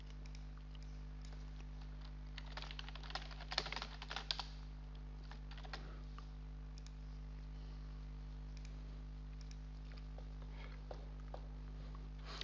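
A password typed on a computer keyboard, a close, light patter of irregular keystrokes in short bursts over a steady low electrical hum, with no voices.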